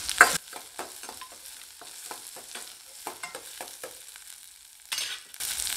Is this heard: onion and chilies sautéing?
yes